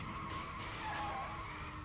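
A race car's tires skid and squeal through a corner in a Sega arcade racing game, a sustained screech over the engine roar lasting about two seconds.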